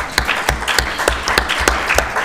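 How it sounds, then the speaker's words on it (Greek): An audience applauding at a live Greek show, dense sustained clapping from many hands at a steady close level, with a faint voice underneath. "θέλω να τη χειροκροτήσω και εγώ και εσείς"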